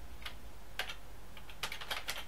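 Quiet, close keystrokes on a computer keyboard as a command is typed, coming in short irregular bursts of soft clicks against a low background hum, with no voice.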